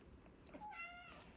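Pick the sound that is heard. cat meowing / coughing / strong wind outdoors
cat meowing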